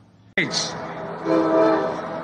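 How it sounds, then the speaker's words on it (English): A commuter train sounds a sharp, loud horn blast that begins suddenly and holds, with the rumble of the passing train swelling beneath it. A voice speaks briefly. "And here comes the train that he tried to make sure didn't continue to run."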